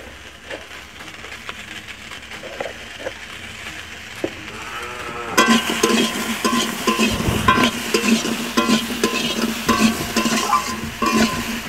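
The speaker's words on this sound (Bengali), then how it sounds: "আমি আনাজগুলো বেশ কিছুক্ষণ লাড়ার পর এখন আমি আনাজে লবণ দিয়ে দিচ্ছি।" Vegetables being stirred and fried in a pan during home cooking. A quiet scraping start gives way to a steady, close, busy sizzle and clatter of stirring that continues to the end.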